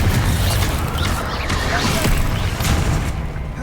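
Fiery Confringo spell blasts in Hogwarts Legacy, a dense, loud mix of booms, crashes and rattling mechanical clatter that carries on through the whole stretch, with no voices over it.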